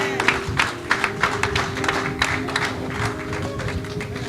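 A church audience applauds and cheers during a French-language sermon, steady moderate clapping with crowd voices blended in, the sound holding fairly even throughout.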